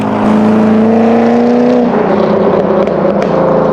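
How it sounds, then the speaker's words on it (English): A modded C5 Corvette Z06 with an LS6 V8 and an aftermarket exhaust gives a loud, steady droning note that drops slightly in pitch midway, heard close with no talking. "So I personally love that sound, and so that's, you know, in my opinion, this exhaust setup has been absolutely perfect."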